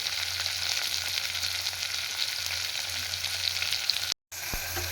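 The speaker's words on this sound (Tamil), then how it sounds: "இப்போ நான் வதக்குறேன் பாருங்க." Onions and green chillies sauté in a pan with a continuous close, even sizzle and a brief break near the end, with no voice over it.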